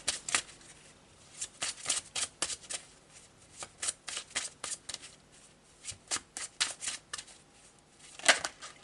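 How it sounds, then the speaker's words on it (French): Tarot de Marseille cards are shuffled close up in a quiet room, making a long series of crisp, papery riffling bursts in uneven clusters with short gaps between them. "Je vais prendre quelques cartes du tarot de Marseille."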